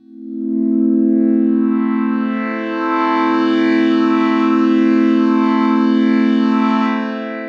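MiniDexed DIY FM synthesizer holding one sustained note with a sixth operator layered in, bright and buzzy with a slow wavering shimmer, swelling in and fading after about seven seconds.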